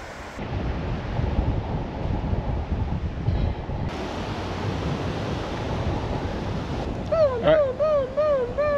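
Steady wind blows across a camping beach, a constant roaring rush buffeting the microphone, with a short warbling chirp rising near the end.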